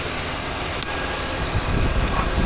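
A 1993 Cadillac Fleetwood's 5.7L V8 idles steadily at close range, a continuous broadband engine rumble with a slight swell toward the end and no talking.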